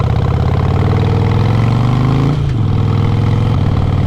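A Harley-Davidson Sportster motorcycle with a full exhaust, air filter and tune rumbles loudly and close, its engine note rising in pitch, dropping suddenly, then settling back to a steady throb.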